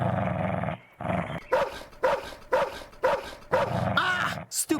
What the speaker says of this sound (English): Stupid dog! I'm never gonna get through that. Not with that dog.